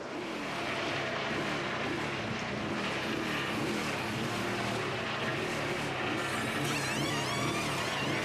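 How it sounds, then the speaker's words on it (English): A NASCAR race car at the 2012 STP 400, struggling to stay running, gives a loud, continuous engine roar with steady, dense noise throughout and no clear break. "you can hear Jeff Gordon. He's having a hard time just keeping the car running."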